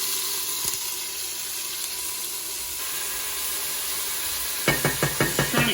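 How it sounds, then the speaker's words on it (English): Thai green curry paste frying in a pan, a steady soft sizzle throughout, joined near the end by a run of quick scraping stirs from a utensil against the pan. "You're frying the curry paste? Frying, yeah."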